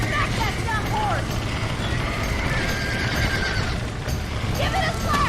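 A horse in the video game Red Dead Redemption neighs and whinnies several times, with hoofbeats clopping underneath and a steady background rumble. Someone talks over the sounds.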